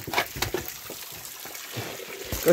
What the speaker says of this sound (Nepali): अनि दिनमा यसरी पानी हाल्यो भनेदेखि